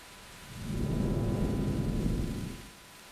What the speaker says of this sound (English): Here's a clip of rain falling on a city street at night.